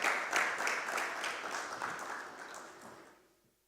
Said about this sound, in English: Ladies and gentlemen, a round of applause for Kathleen Flynn Dapar as she joins us up